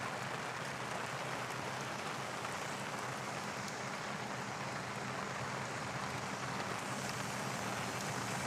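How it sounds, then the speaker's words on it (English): Steady rain falls outdoors at Honolulu airport, a continuous even hiss of drops on surfaces that stays uniform and fairly quiet throughout, with no talking. "I think the rain is letting up a little bit"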